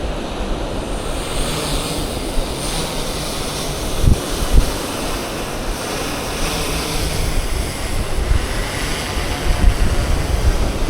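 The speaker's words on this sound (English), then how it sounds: "I'm gonna take this drone off once we're clear of everything" A fishing drone lifting off on a beach, its rotors whining steadily against wind and crashing surf, with a couple of brief bumps as it rises.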